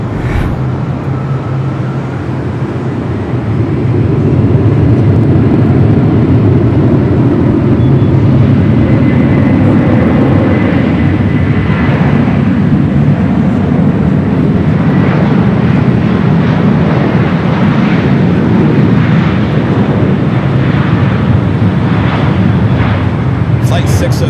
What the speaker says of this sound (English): Flight 602 coming from Santiago, 787-8 Dreamliner, touching down there on the south side on 25 left.